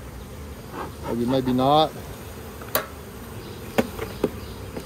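Honey bees in an Apimaye hive give off a brief rising and wavering buzz up close, followed by a few sharp knocks and taps; a person speaks briefly.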